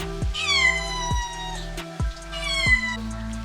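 A cat meows twice, two long, clear, fairly loud calls about two seconds apart, over a steady background hum and several dull knocks.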